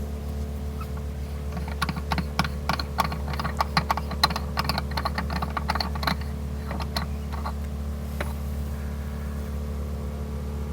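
A JLT 3.0 oil catch can being unscrewed by hand: scattered small metallic clicks and ticks, denser in the middle, over a steady low engine-like hum.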